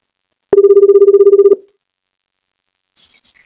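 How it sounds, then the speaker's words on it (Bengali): A phone ringing after a number is dialled: a single steady ringback tone buzzes loudly for about a second, then goes silent before a faint beep follows. "রিং হচ্ছে"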